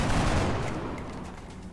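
Sustained gunfire in the XCOM Long War video game, a dense, loud burst of shots rolling into a fading rumble.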